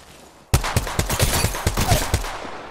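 Rapid automatic gunfire in the video game Apex Legends breaks a brief quiet, with about eight sharp, close shots in quick irregular bursts over a loud lingering crackle.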